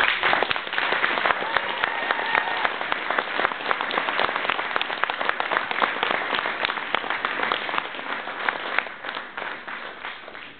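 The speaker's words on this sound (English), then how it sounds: "I want to just give them a particular round of applause." Steady, dense applause from a high school theatre audience at a curtain call, many hands clapping together at moderate volume, unbroken from start to finish.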